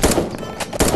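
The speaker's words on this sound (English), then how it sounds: "And people are shooting me from behind." Rapid video game gunfire in a match, a loud dense burst of shots coming from behind, with a second burst near the end.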